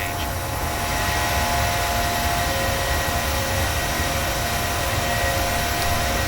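PMDG 737-800 jet engines in a flight simulator game give a steady, loud, unbroken roar while the airliner climbs out after takeoff from San Diego.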